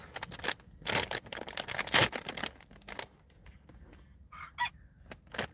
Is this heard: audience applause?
no